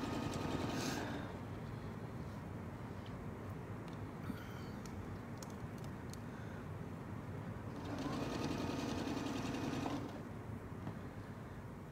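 Sewing machine stitching quilting fills, a fairly quiet, steady mechanical whir with a faster, busier stretch near the end, running on its own without talk.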